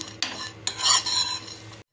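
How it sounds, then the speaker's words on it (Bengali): A utensil scrapes and stirs in a pan a few times over a light sizzle, short and close. "একটু নাড়াচাড়া করে ভেজে নিচ্ছি।"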